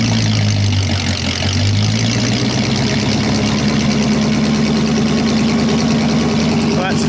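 A vehicle engine with a 25-horsepower transmission runs in fourth gear low range at about 1200 RPM, a loud, steady low drone with a voice talking over it.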